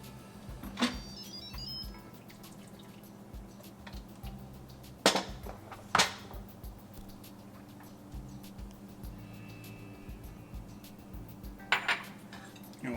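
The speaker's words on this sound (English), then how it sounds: "And we'll give that a stir." A spoon stirs cardamom powder into finished chawal kheer in a pot, heard as a few sharp metallic clinks and scrapes against the pot at intervals over a quiet kitchen background.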